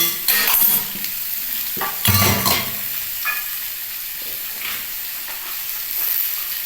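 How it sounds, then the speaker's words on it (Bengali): Chicken pieces frying with diced onion, tomato and red-green chili, a steady hiss of sizzling oil broken by loud scraping stir strokes near the start and around two seconds, with quieter spatula clinks later. "এইবার ভালো করে এই চিকেনের সাথে এগুলো ভেজে নিচ্ছি"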